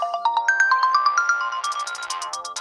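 A mobile phone rings for an incoming call, a loud, clear electronic ringtone tapping out a rapid, steady melodic pattern that runs for a few seconds with no talk over it.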